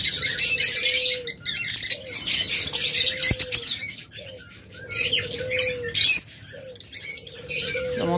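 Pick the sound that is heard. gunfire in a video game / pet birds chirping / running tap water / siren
pet birds chirping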